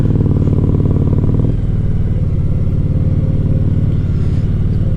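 A motorcycle rides close and loud, its engine a dense, rhythmic pulsing drone that drops in pitch partway through, as if shifting or easing off, with no talk.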